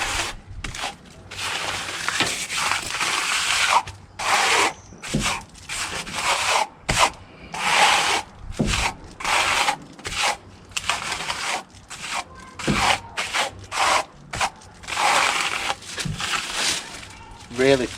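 A float rubbing wet render on a wall, with repeated rough scraping strokes in steady bursts, close and loud, with someone talking over parts of the work.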